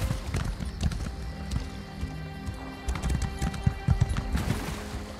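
Horse hooves clip-clop across ground in Elder Scrolls Online, a steady trotting patter with occasional louder strikes and a brief whinny, set against game ambience.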